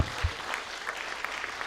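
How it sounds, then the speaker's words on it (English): An audience at a secondary school debate semi-final in Lae applauds, a dense, continuous patter of many hands clapping from start to finish. "Round of applause for Makili Zurunuk, the first speaker of Coronation College."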